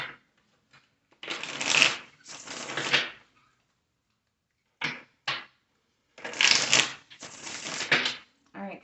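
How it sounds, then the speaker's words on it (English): Tarot cards being shuffled by hand in several bursts of papery riffling and flicking, with quiet gaps and short taps between them; close and fairly crisp, with no talking over it. "All right, Capricorn, this will be our last shuffle."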